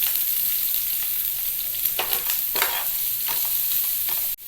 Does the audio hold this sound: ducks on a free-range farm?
no